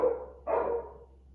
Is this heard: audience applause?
no